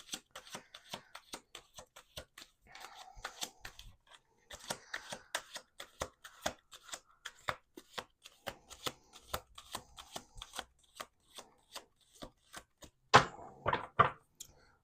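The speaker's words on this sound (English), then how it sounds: "1 more shuffle." Tarot or oracle cards being shuffled repeatedly: quick riffling bursts and sharp snaps, close up, in irregular runs, ending with a few louder bridge-like clacks.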